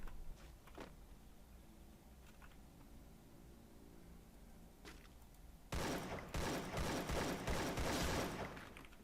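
Gunfire in the Free Fire game: quiet background at first, then a sudden loud, rapid burst of automatic shots continuing for several seconds.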